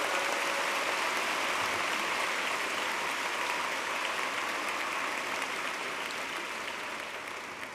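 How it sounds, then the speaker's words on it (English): Sustained applause from a large commencement audience at a Georgia Tech bachelor's ceremony, a dense, steady wash of clapping that fills the whole stretch and fades slightly toward the end. "Now you can applaud,"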